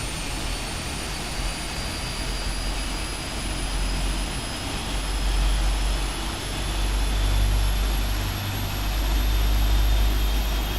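Jet engines of a PMDG 747-8F freighter spooling up during start in the Prepar3D flight simulator, a steady loud rumble with a high whine and rising tones, swelling in strength partway through with no talking.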